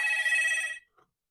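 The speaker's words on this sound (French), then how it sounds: "Je vais simplement répondre au téléphone. Une seconde, je sais pas qui appelle." Telephone ringing with a steady electronic ring tone that stops abruptly, followed by a brief faint click.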